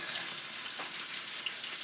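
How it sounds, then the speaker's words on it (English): Water runs steadily into a sink while an old rusty Stanley chisel is washed under it, giving a continuous loud hiss and splash with no breaks. "Most of the black stuff washed right off in the sink."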